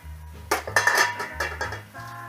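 A disposable foil baking sheet is handled up close, giving a run of crinkly metallic rattles and clinks over about a second and a half, with low background hum around it.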